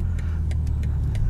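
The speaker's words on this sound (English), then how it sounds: "In sport mode, the exhaust valves open up." A 3-liter car's exhaust with sport-mode valves open, giving a steady deep low rumble throughout, loud and close, with faint higher ticks or pops now and then.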